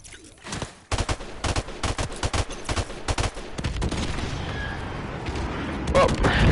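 A friendly airstrike in a video game brings rapid bursts of gunfire and heavy explosions, close and loud, settling into a rumbling roar.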